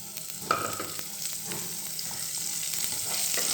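Cardamom, garlic and cinnamon sizzle in hot oil in a wok, a continuous close frying hiss with a sharp spatter near the start and light stirring touches throughout.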